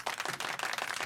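Applause in a late-night podcast studio, a short burst of claps from a small group, steady and fairly loud for about a second.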